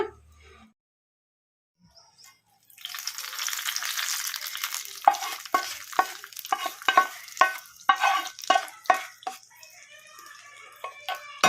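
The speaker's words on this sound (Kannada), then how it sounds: "ಈಗ ಸ್ಟವ್ ಆಫ್ ಮಾಡಿಕೊಂಡು ಮೊಸರಿಗೆ ಒಗ್ಗರಣೆ ಹಾಕ್ಕೊಂಬಿಡೋಣ" A hot tempering of oil with curry leaves is poured into curd for a brinjal raita, bursting into a sharp sizzle after a quiet start, followed by rhythmic spoon clinks while mixing.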